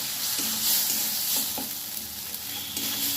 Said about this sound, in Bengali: দিয়ে আমি মশলাটা খুব সুন্দরভাবে কষিয়ে নেব।